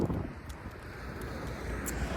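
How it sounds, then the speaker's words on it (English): Steady wind buffets the microphone, a constant low rumble and rushing noise with no one speaking. "I think it's mostly going to be a bit windy this bit"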